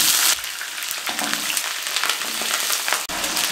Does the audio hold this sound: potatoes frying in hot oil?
yes